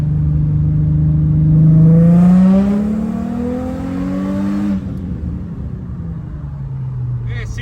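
Holden VY Calais drift car with a swapped L67 engine revving loudly and steadily, its pitch climbing then falling back, with a whir overlaid and no talk.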